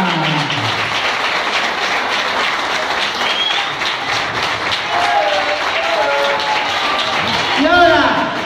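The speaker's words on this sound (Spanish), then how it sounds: "Un aplauso para mamá" Applause for a mother at a family birthday celebration, dense clapping from a gathered group, with voices talking and calling out over it and a swell near the end.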